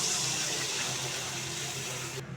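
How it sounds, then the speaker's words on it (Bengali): Water pours steadily into a pan of chicken skin and potato curry with tomato masala, a continuous rushing hiss for over two seconds that cuts off abruptly, with no voices. "এবার দেবো জল।"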